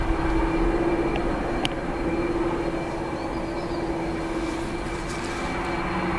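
A WestJet aircraft on its takeoff roll at Dublin Airport in windy, wet weather, a distant steady jet rumble with a sustained whine, heard alone.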